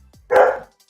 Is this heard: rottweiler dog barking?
yes